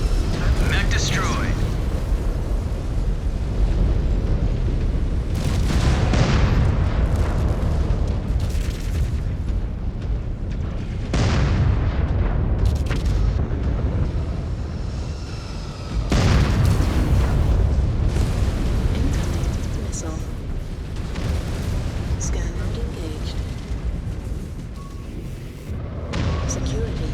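A mech blown apart in the MechWarrior 5: Clans video game, a long run of loud, heavy booming blasts and crackling detonations with bursts of impact noise rolling continuously over roughly half a minute.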